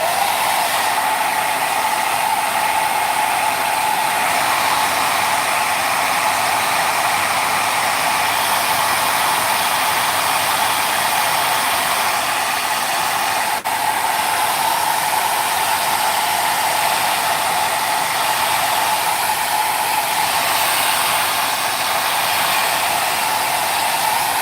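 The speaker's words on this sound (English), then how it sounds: "I'm going to use the hair dryer. So if you don't like the noise of this" A hair dryer blows steadily and loudly for the whole stretch, a constant whooshing hiss with a faint motor hum, unchanging throughout.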